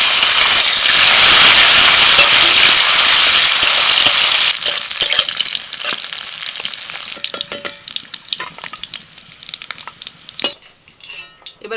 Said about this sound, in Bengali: কড়াইতে অল্প করে সাদা তেল দিয়ে দিয়েছি, কাজু আর কিশমিশ ভেজে নেব।